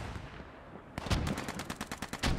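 Rapid machine-gun suppressive fire in the World War II shooter Post Scriptum, a sudden burst of repeated sharp shots after a quieter opening, fairly loud and close with no talk over it.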